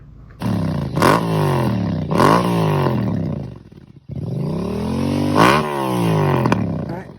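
Honda Transalp motorcycle ridden off-road in Idaho, its engine loud and close as it revs up through several gear changes, with a short lift-off around the middle before pulling hard again; no voices.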